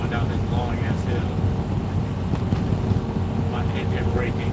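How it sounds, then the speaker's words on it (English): Truck engine braking while descending a long highway hill: a steady, loud low rumble and drone with wind noise throughout, continuous and close, with no clear talk over it. "My engine braking going down this long hill."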